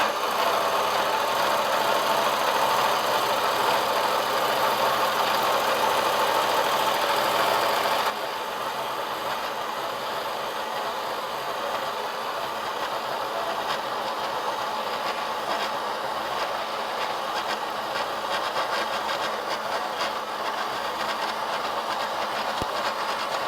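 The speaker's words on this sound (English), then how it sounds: "we're taking a 15 thousandths depth cut, and I got to feed it manually since I don't have a power feed on my mill yet" A milling machine running a new facemill through a manually fed 15-thousandths-deep cut, a loud steady mechanical whirr and grind that drops to a lower, rougher chatter partway through.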